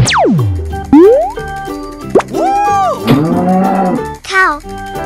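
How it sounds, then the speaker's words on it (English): A cartoon cow moos in a long, loud call that slides downward, set among bright synthetic boings, plops and chiming music notes in a playful animal-sound sequence. "Cow."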